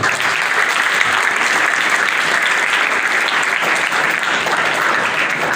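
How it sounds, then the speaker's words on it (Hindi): A school audience of parents and children at a DAV School Jind event breaks into sustained, even applause, a thick wash of many hands clapping at steady loudness throughout. "तो इसमें भी आप लोगों को प्लीज मेरी तरफ से सभी एक बार तालियां बजाएंगे"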